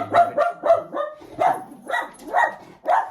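Small dog barking at people or other dogs, a rapid run of about eight sharp, close, loud yaps in an uneven rhythm with no talk.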